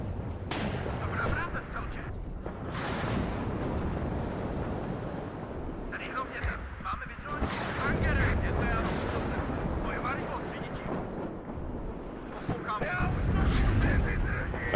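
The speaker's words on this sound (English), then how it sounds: "Always really cool when the artillery comes through the camera like that." Artillery fire in the video game WARNO, a sustained rumbling barrage with repeated booming impacts that swell louder toward the end, running continuously under a voice.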